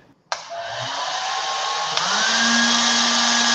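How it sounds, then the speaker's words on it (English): A hair dryer switches on abruptly for a physics demonstration balancing a ball in a column of air, then settles into a steady, loud whooshing blow with a rising whine, heard on its own. "if I turn on the hair dryer"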